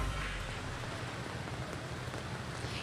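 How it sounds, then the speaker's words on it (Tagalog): Heavy rain pours steadily in Valenzuela during flooding along MacArthur Highway, a dense, continuous hiss of drops hitting surfaces with no pause and no voices. "lumalakas na ang ulan dito sa Valenzuela"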